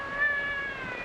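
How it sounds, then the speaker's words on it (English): A kitten gives a single drawn-out, fairly faint meow, heard alone without any talk. "Let me hold him. I like kittens."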